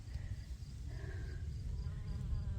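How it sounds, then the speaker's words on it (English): Honeybees buzz faintly over clover ground cover outdoors, a soft continuous insect hum with wavering tones drifting in and out over a low background rumble. "Look at all these wonderful little honeybees."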